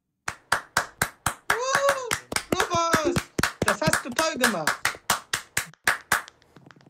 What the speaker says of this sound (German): Einen erneuten Applaus, bitte.